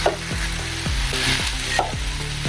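Beans, carrot and capsicum stir-fried in a pan for oats upma, a loud close sizzle broken by rhythmic scraping strokes of a spatula, several in quick succession, no voices.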